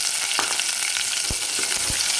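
Chopped onion fries in a pan for a masoor dal dish, giving a loud, steady sizzle with a few soft spoon knocks and scrapes as it is stirred.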